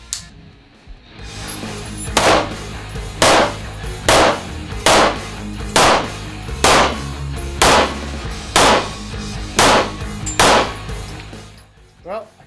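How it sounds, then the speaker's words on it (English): Ten handgun shots fired one by one at a target 20 yards downrange, loud, sharp reports at a steady, unhurried pace of about one per second. "I'm not going to shoot as fast, but I'm going to see how accurate I can be."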